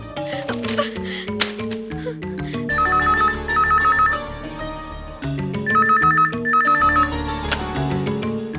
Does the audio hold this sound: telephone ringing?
yes